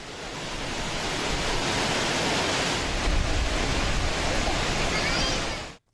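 A waterfall at Cheeyappara and Valara in Kerala, swollen by heavy monsoon rain, roars as one dense, loud and unbroken rush of water that stays level throughout, then cuts off abruptly at the end.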